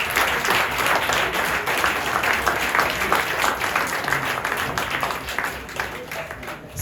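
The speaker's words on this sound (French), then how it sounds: "Applaudissez-les." A crowd in Pointe-à-Pitre applauds the candidates at the presentation of an electoral list, with continuous, brisk clapping and a voice speaking over it, the applause thinning slightly near the end.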